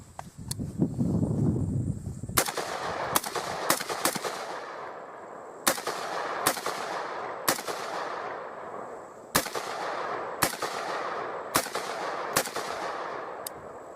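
Bushmaster ACR rifle firing a series of sharp single rounds outdoors, about a dozen loud cracks spaced irregularly at roughly one-second intervals, each followed by a brief ringing echo, with a low rumble before the first shot.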